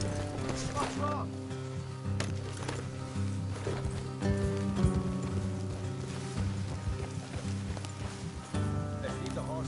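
Horse hooves clip-clop at a steady walking rhythm in Red Dead Redemption 2, mixed with game ambience and low rumbling tones, fairly close and moderately loud throughout.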